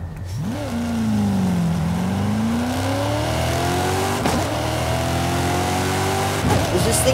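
A 2004 Porsche engine in Forza Horizon 5 revving hard, its pitch dipping and then climbing steadily through the gears with brief shift breaks, loud and continuous against road and wind noise.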